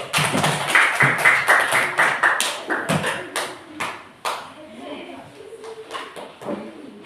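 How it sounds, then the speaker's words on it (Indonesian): Students in a classroom give a round of applause for a group, a lively burst of clapping that thins into scattered claps and fades, with voices mixed in. "Beri tepuk tangan kelompok 1."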